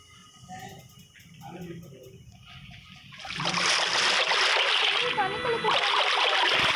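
A player splashes into water in Minecraft, first a few soft sloshes under a voice, then a louder, continuous splashing and bubbling wash that carries on to the end while he keeps talking.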